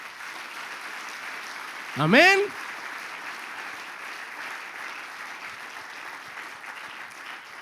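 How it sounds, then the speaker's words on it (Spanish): Congregation in a Spanish-speaking church service giving a sustained round of applause, an even patter of clapping throughout, with one voice briefly calling out over it near the middle. "de una fuerte ofrenda de palmas al Señor"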